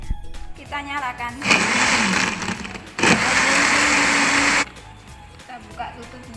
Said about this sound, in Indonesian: setelah kita potong buah naga tadi, kita masukkan ke dalam blender.